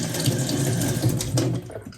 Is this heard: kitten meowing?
no